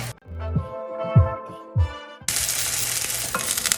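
Scallop fritters dropped into hot oil in a pan, a few soft plops of batter followed by a sudden loud, steady sizzling as the frying starts, close up and without talk.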